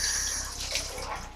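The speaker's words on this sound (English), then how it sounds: "pour the water into the basin," Water is poured steadily into a washbasin during a nursing assistant's foot-care routine, giving a continuous close splashing rush with no pauses.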